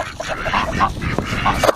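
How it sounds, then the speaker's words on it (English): A chicken on a farm gives a run of honking, clucking calls close by, with a noisy, busy background. "Did that chicken say mean things to you?"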